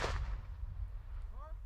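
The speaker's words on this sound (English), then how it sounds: "We hear some artillery falling as the soldiers continue on." A heavy low boom of artillery fire at the start of a Ukraine war frontline scene, rumbling on afterward, with a faint distant whine near the end.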